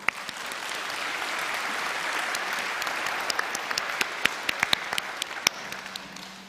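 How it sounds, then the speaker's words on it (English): A school audience at a grandparents day performance claps in a sustained round, a dense wash of hands filling the room, with sharper individual claps popping out near the end as the applause thins. "That cuteness deserves another round of applause."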